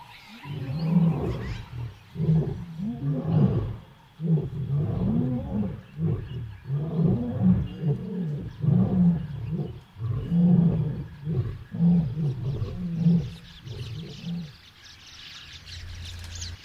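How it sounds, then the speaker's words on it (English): An elephant in the wild in Uganda gives a long series of deep, rhythmic rumbling calls, loud and steady for about fourteen seconds before fading into quieter background sound. "the elephant."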